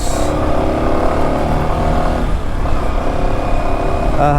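A TVS motorcycle engine running steadily nearby, a continuous loud mid-pitched drone with even tone throughout, with no clear revving.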